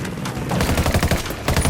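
Rapid bursts of automatic gunfire in the tactical shooter video game Ghost Recon Wildlands, loud and close, with dense overlapping shots in quick succession.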